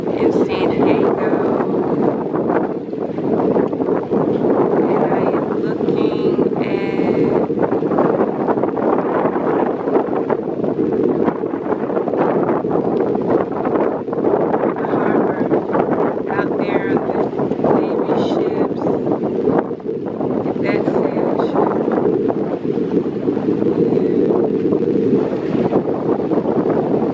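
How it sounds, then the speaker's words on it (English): Steady wind buffets the microphone at the port harbor off Broadway in San Diego, a constant loud rumble lasting throughout with faint boat and water sounds mixed in. "The wind feels good."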